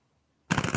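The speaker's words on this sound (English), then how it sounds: "Sometimes the sound of shuffling cards can be nice." Tarot cards being shuffled by hand during a live reading, a sudden dense burst of crisp riffling and flapping that starts after a moment of near silence and continues close and fairly loud.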